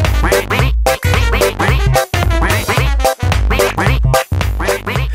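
Pato, the cartoon duck friend of Pocoyo, quacks loudly in a rapid series of bright, nasal calls broken by short pauses, close and clear with nothing else underneath.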